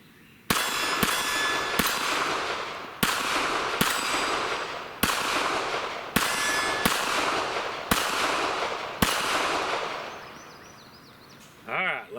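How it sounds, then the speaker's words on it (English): A Ruger LCP Max Elite pistol fires Surefire hollow point rounds outdoors, roughly nine sharp, loud shots spaced about a second apart, each trailing a ringing echo, followed by a brief metallic rattle at the end. "Let's go ahead and put some shots on target, and then we'll talk about it a little bit more, see how it runs this hollow point."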